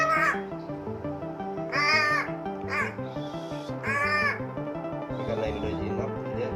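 An albino crow caws in a few harsh, nasal calls, close and fairly loud, over a steady background with music-like tones.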